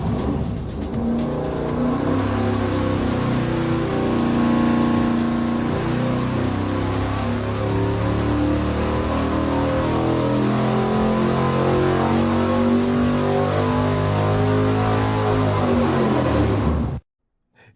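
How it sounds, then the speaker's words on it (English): Performance V8 fitted with heavy-duty valve springs and beefy pushrods running on an engine dyno: a loud, continuous roar that climbs steadily in pitch as it pulls through the revs, then cuts off abruptly near the end. "I'm gonna make Steve fire it up on the dyno"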